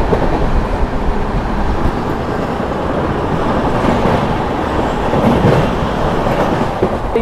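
A Humsafar Express train (Prayagraj–New Delhi) rushes past while overtaking the Prayagraj Express, a loud, steady roar of wheels and rail clatter filling the whole stretch without a break.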